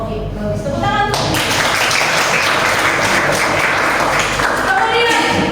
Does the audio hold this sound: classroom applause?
yes